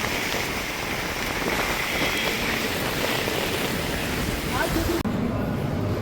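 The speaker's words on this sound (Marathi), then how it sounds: "आज पाऊस तर काय कमी आहे" Steady rain pattering on surfaces in a dense hiss, with a voice speaking over it, before the sound briefly thins near the end.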